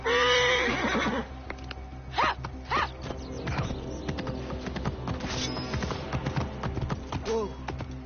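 A horse whinnies loudly at the start in Assassin's Creed Origins, followed by clip-clop hoofbeats, rustling, and scattered game sound effects with voices murmuring.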